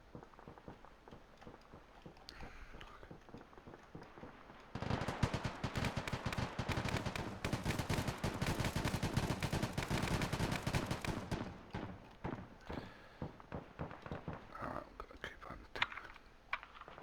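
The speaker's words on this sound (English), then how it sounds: "They're literally shooting at a retreating fire team." Sustained rapid gunfire in Arma 3 aimed at a retreating fire team, a dense roaring burst of automatic fire lasting several seconds amid quieter scattered shots before and after, with no talk.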